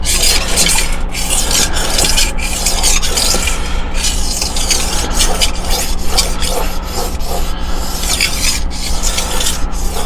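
Knife blade being sharpened on a Hapstone T1 guided sharpener, close, loud rasping strokes of the stone against steel repeating in a steady back-and-forth rhythm, with no talk.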